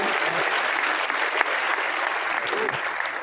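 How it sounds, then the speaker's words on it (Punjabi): A hall full of people applauding to welcome Chief Minister Bhagwant Mann, dense, steady clapping throughout at a consistent, fairly loud level. "ਤਾੜੀਆਂ ਦੇ ਨਾਲ ਉਹਨਾਂ ਦੇ ਪਿਆਰ ਤੇ ਸਵਾਗਤ ਕੀਤਾ ਜਾਏ"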